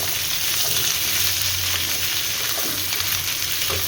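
Vegetables, including beetroot, potato, carrot and onion, fry in a pan with a constant, dense sizzle while being stirred, close and loud throughout with no voices.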